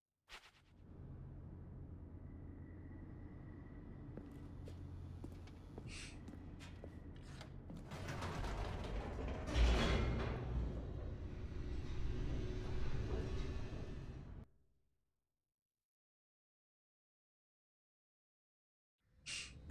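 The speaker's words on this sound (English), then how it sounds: "The elevator raced downward" An elevator descends in The Stanley Parable with a low, steady rumble that swells into a rushing, rattling roar and then cuts to silence, and a few clicks and clanks sound along the way.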